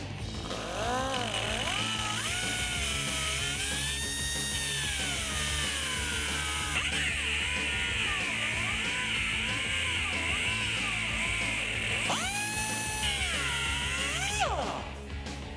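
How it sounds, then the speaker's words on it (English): A power tool cutting through the differential of a 2014-2018 Chevrolet Silverado 1500 during a lift kit install. The loud, sustained grinding whine rises and falls in pitch as the load changes, with a brief pause near the end. "So now that we're all done cutting the diff"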